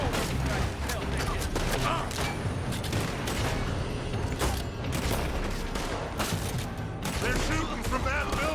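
Rapid volleys of gunfire crackle and boom throughout a Western shootout in the video game Red Dead Redemption 2, dense and continuous with shots from a building, layered over game ambience.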